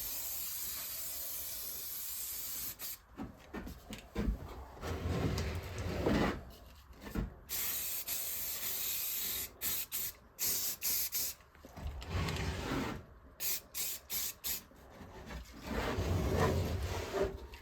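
Bursts of spray paint hiss onto metal parts outdoors in cold weather, coming in several separate passes of varying length with short quiet gaps between them, moderately faint and with no talk.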